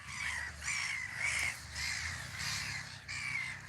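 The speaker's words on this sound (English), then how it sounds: "I'll show you now all the birds." Crows cawing by a village lake, harsh repeated calls in a steady rhythm at moderate distance, layered over a faint outdoor hum.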